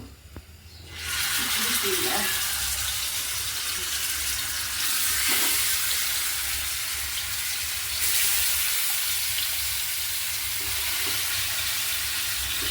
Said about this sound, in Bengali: তেলটা গরম হয়ে গেছে এখন মাছটা আমি ছেড়ে দিব